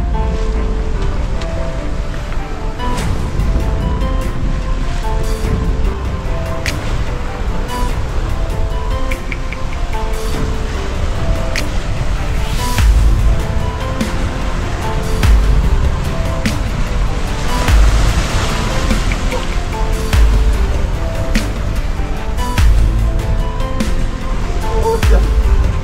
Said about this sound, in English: Steep waves here.